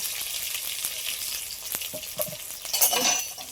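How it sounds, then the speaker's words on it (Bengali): Chopped onion, a few garlic cloves and torn green chilies hit a little oil in a karahi with a crackling close sizzle, then stirring scrapes and light metal clinks toward the end. "কড়াইতে অল্প করে তেল দিয়ে দিয়েছি, ওর মধ্যে দিয়ে দিচ্ছি পেঁয়াজ কুচি, 4-5টা রসুনের কোয়া, কাঁচা লঙ্কা ছেঁড়া দিতে।"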